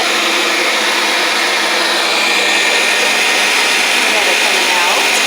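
An electric meat grinder runs steadily while grinding fatty beef at home, a loud, close, continuous motor whine with no pauses.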